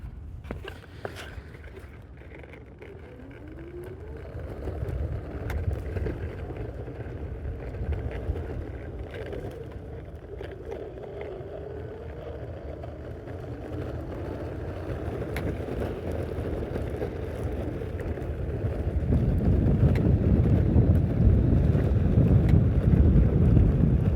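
Meepo Donut 105mm hub motor wheels on an electric skateboard roll along steadily, giving a continuous low rumble with a faint motor whine and some wind buffeting, growing louder and rougher near the end.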